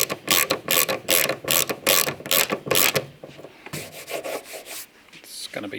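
Threaded bonnet height adjuster on a Talbot Sunbeam Lotus being wound in, a close run of rapid ratcheting clicks in bursts, then a softer stretch of rubbing, turning mechanism noise.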